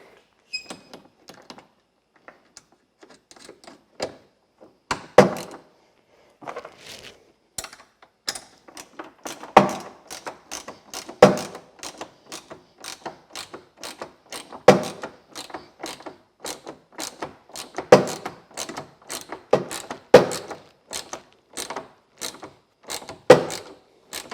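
A bolt is tightened with a 4mm Allen key while fitting bed extenders to a Seizmik Pioneer 1000 bed, giving a long run of close, sharp ratcheting clicks and small metallic ticks in an uneven, repeating rhythm with no talk.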